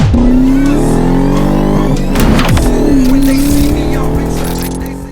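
A 2000 Ford Saleen S281 Mustang with a 4.6 V8 drives loud and close, its engine droning and revving through gear changes, with the pitch dropping and rising again before easing off.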